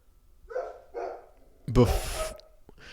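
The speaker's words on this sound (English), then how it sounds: "Pardon my dog." A dog barks sharply once up close, a loud burst that tails off, set between stretches of conversational speech from people talking nearby.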